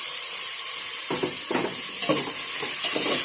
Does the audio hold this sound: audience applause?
no